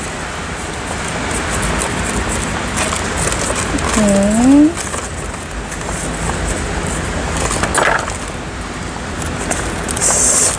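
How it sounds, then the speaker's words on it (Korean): Steady outdoor rain and passing car traffic during an outdoor succulent repotting, a continuous hiss and rumble that runs throughout with someone talking over it. "근데 뭐 차소리 빗소리에 제 목소리는 거의 파묻히는 것 같습니다."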